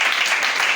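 Brief crowd applause at a church gathering, steady dense clapping filling the whole short moment, close and fairly loud.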